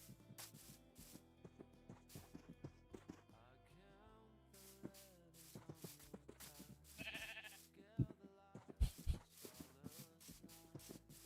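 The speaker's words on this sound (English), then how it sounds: "There's a sheep. Found a sheep." Sheep bleating in the blocky survival game RLCraft, a few short game-animal calls scattered over busy in-game music and effects, with a brief thumps near the end.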